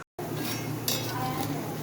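Pakoras frying in oil: a dense, steady crackling sizzle close up that starts after a brief silence, with a faint metal clink partway through.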